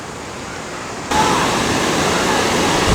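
The Castor River at the Shut-Ins near Fredericktown, Missouri rushes over rocks in a steady, full hiss of churning water that swells suddenly partway through and then holds loud and close, with no voices.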